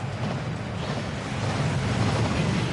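Waterfall in the Gringotts vaults in Hogwarts Legacy, a loud continuous rushing roar of falling water, dense and steady throughout with no breaks.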